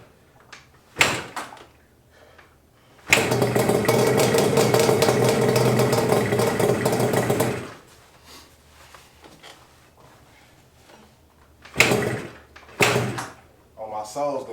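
A Yamaha Banshee ATV engine runs loud and steady for about four seconds, a sustained rough mid-range drone, bracketed by short sharp knocks and bursts, with brief talk nearby.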